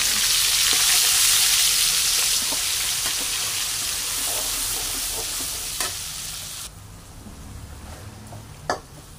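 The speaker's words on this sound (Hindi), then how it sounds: "और अब हमने इसको फुल फ्लेम पे अच्छी तरह भूनते हुए पकाना है" Masala with cinnamon, cloves and cardamom fries in a pan over high flame, a loud hissing sizzle that gradually settles, with occasional stirring scrapes and a sharp clink near the end.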